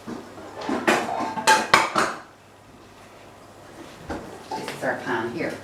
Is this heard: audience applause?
no